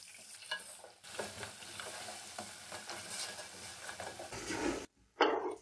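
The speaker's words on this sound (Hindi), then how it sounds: "लहसुन अदरक के पेस्ट को हमने 1 मिनट फ्राई कर लिया है।" Garlic ginger paste frying and being stirred in oil in a large pot for beef nihari, with steady sizzling, scraping utensil strokes, a brief quiet gap, then a louder burst of sizzle.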